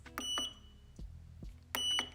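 Buttons on a Kiara Sky LED nail lamp are pressed, giving a few quiet, sharp clicks with short electronic beeps in between, close up in a quiet room.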